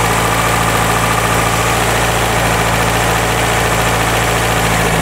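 A car engine idling fast after its idle screw has been turned up, giving a steady, loud, unbroken running drone with constant vibration and no pauses.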